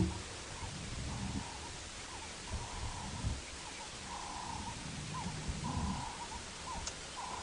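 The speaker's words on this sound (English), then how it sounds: "there are a lot of bird calls going on around us" Repeated bird calls ring out over steady outdoor background noise at sunrise on a safari drive, moderately distant, with several calls spaced across the stretch.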